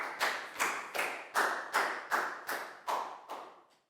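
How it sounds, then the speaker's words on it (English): A class of primary pupils applauds a classmate in a lesson, the clapping arriving as about nine distinct, rhythmic bursts at a steady beat, fairly close and with no talk over it. "a big round of applause for Pakbong"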